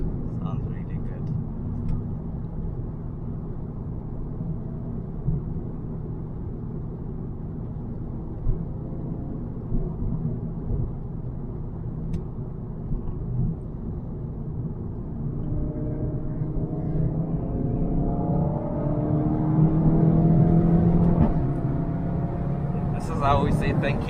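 Steady cabin drone of a VW Golf 7.5 R with an Akrapovic exhaust cruising, road rumble constant before the engine note climbs and swells louder near the end, with voices talking over it.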